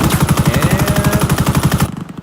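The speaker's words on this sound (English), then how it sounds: "got a little bit of gunfire over there." Rapid automatic gunfire in a video game, a loud, fast, continuous burst lasting about two seconds before stopping.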